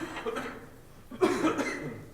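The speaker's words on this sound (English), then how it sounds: "There's a cough." A single close cough breaks out after a soft voice during a city council roll call, with a brief chuckle-like rasp trailing off in a quiet room.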